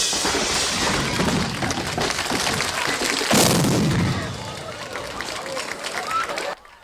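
A huge dynamite charge blows up inside a drum kit on a TV stage, a sudden loud blast partway through that bursts out over a roaring crowd and band din before everything cuts off.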